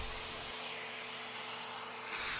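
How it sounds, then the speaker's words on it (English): A small handheld vacuum cleaner runs steadily while cleaning dust off old TRS-80 computer monitors, a continuous close whine with a slight rise near the end. "I use a little vacuum. Vacuum off the monitors."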